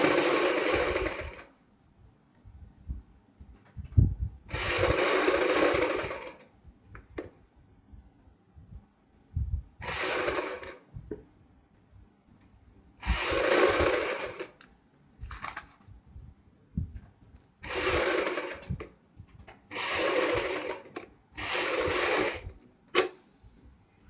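A sewing machine stitches a high-neck kurti collar in short bursts of rapid whirring, about eight runs separated by quiet pauses with small clicks and handling noises between them.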